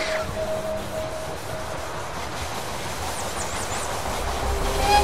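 A steady rumbling train sound with a faint rhythmic rattle, continuous and fairly even, with a brief high tone near the start, as a train arrives at a station in the video game They Are Billions.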